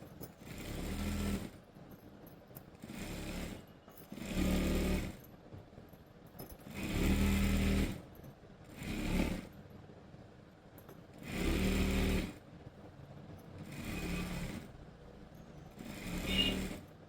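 Sewing machine stitching school girls' uniform pants, running in repeated bursts of about a second or two with short pauses between, close and fairly quiet, no voices.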